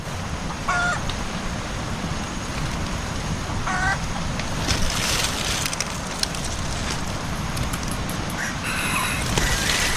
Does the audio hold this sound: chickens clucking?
yes